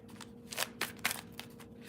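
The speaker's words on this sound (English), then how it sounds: "I'm going to go ahead and pull a few more cards here." Tarot cards are shuffled and pulled from the deck, giving a few soft, quick riffling bursts and flicks at uneven intervals over a quiet indoor background, with no speech.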